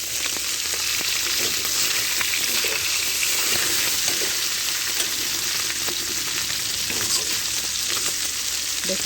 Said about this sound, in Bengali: ট্যাংরা মাছ এভাবে ভেজে নিলাম, ভাজা হয়ে গেছে।